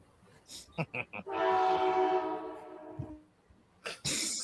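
A train horn sounds as a long sustained blast with a short clack of rail noise as it fades, and a few voices and short noises come before and after it.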